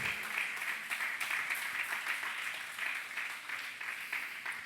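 A church congregation claps together in a soft, steady patter, distant and fairly quiet, with no voices over it.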